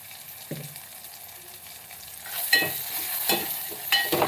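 Urad flour mixed with green masala is roasted and stirred in a pan. Repeated scraping strokes rise over a soft, steady sizzle, close by and growing louder partway through.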